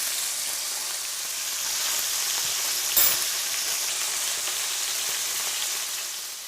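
Lots of peppers frying in a pan for venison stroganoff, a steady bright sizzle with a brief stir or clink midway, close up and without talking.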